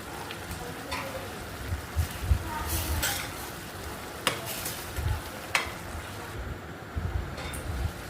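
Tomatoes simmering in a pan for tomato curry give off a steady, soft sizzle, with intermittent clinks and scrapes from stirring scattered throughout.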